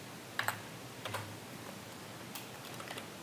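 Computer keyboard keys are pressed as shortcuts during digital painting, a few soft, separate clicks and taps spaced irregularly, quiet and close in a calm room.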